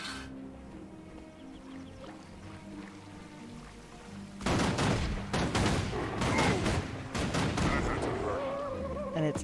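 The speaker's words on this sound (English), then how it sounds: "And this rifle goes so much faster" A rifle in the video game Guild Wars 2 fires rapidly. A quiet stretch gives way to a dense burst of fast, sharp shots that keeps going for several seconds, loud and close.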